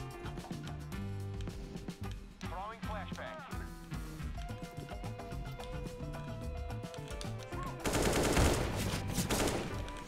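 A shooter video game produces repeated gunshots and bursts of fire over a busy layer of game music and effects. A voice talks at moments, and a loud noisy burst lands near the end.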